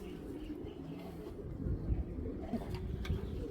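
Pigeons coo softly in low, burbling phrases over a dull background rumble, fairly quiet and continuous.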